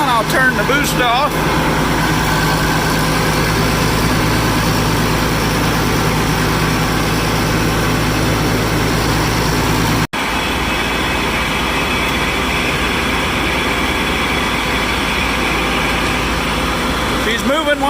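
Massey Ferguson 550 combine diesel engine idling down, a loud steady rumbling drone with a constant mechanical hum, briefly cut off midway and then continuing at a slightly lower, even idle.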